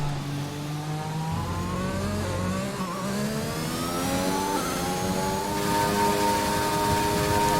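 An F1 car races at Monza in the F1 2021 video game, its engine whining steadily at high revs and climbing in pitch through repeated gear changes, loud and close with no talk.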